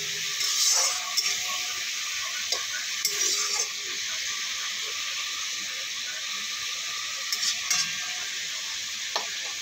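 Fish head and potato fry and are stirred in a pan, with water added, giving a steady close sizzle and hiss with several brief scraping stirs and no talking.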